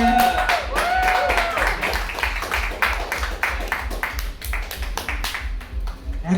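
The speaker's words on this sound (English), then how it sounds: "you guys ready to clap it up for Matt Proctor?" Audience clapping for a comedian at a stand-up show, a steady run of many overlapping hand claps that fills the room and slowly thins out, with some crowd noise underneath.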